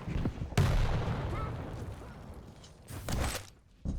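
Rocket launcher shots and blasts from a competitive arena shooter duel hit as sharp, loud bursts, one near the start and another cluster about three seconds in, separated by a rumbling game din.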